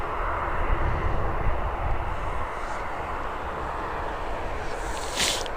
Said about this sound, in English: Transat 558. Airbus A321-200.